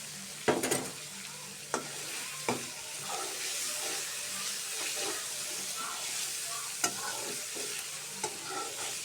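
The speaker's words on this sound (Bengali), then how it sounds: "এখন আমি বাটিতে একটি ডিম নিয়েছি, ডিমটা এখন পেঁয়াজের কলির সাথে মিক্স করে নেব।" Egg being stirred into spring onion stalks frying in a pan, with a steady close sizzle and sharp utensil clicks and scrapes against the pan at irregular intervals.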